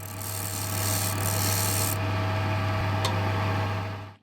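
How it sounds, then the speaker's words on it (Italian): A wood lathe spins a workpiece while a negative-rake scraper shaves the surface, producing a steady low motor hum under a continuous close rasping hiss that fades out at the end. "finiamo col raschio ad affilatura negativa. Osservate come la superficie viene accarezzata e rasata."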